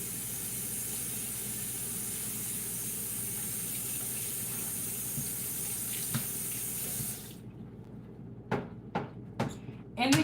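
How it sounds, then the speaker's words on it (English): A kitchen tap runs in a strong steady stream while a cutting board is rinsed beneath it, then the water cuts off and a few sharp knocks and clatters of the board follow; speech is faintly present. "I'm just going to give my cutting board a quick rinse."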